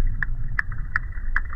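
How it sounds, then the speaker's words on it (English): Four short, evenly spaced knocking chirps from a sturgeon pulse through a murky underwater rumble, each a brief tonal tap about a third of a second apart. "that is the sound of a sturgeon"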